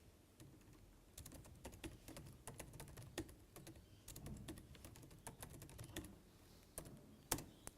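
Steady, quiet typing of Python game code on a computer keyboard: rapid irregular key clicks running throughout, with a slightly louder keystroke near the end, close to the listener over low room noise.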